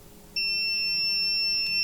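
A multimeter on a continuity test, with its threshold set to 10 ohms, gives a steady, clear electronic beep that starts abruptly and holds unbroken to the end, up close during a laptop repair.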